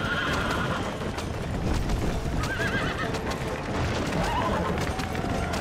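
Horses whinny over a busy, constant clatter of hoofbeats and background noise in the video game Red Dead Redemption, with a couple of distinct neighs rising above the din.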